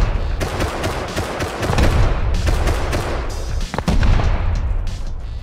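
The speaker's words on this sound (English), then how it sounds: "Shoot an entire mag of SAR ammo into that." Sustained burst of semi-automatic rifle fire in the game Rust, a full magazine emptied in rapid, dense succession of loud shots with a brief gap near the end, no talk.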